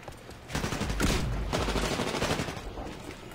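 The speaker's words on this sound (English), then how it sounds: "So right now I'm using the R97, I've just unlocked this SMG, and I'm just gonna try it out right now." An R97 submachine gun in Titanfall multiplayer fires a sustained, dense automatic burst at a moderate distance, with a rapid stuttering rattle that holds for about three seconds.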